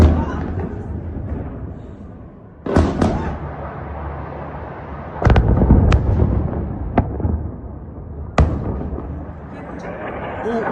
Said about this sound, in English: According to local residents, loud explosions were heard in the area.